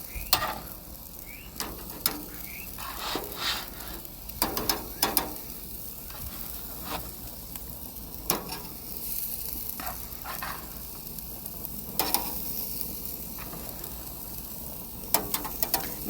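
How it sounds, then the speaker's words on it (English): Sausage patties on a grill preheated to medium high, a steady sizzle underneath with scattered clicks, scrapes and metallic clatter of tools and grates, close and continuous with no talk. "so now we are going to take our sausage and put it on the grill."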